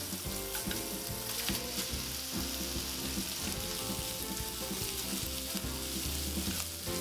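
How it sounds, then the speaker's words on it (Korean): Cabbage and bacon stir-fry in a frying pan with a loud, dense, continuous sizzle, layered with close rattling and scraping as the food is tossed and stirred. "베이컨이 익으면 양배추를 넣고 볶아주세요."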